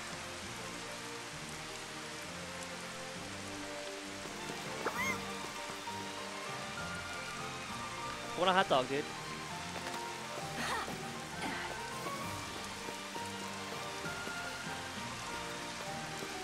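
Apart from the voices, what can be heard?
rain falling in Final Fantasy XV Platinum Demo, video game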